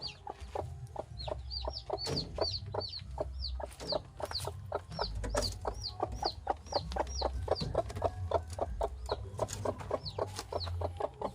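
A kampung hen clucks in a steady run of short repeated calls close by, over low farmyard background noise, with no talking.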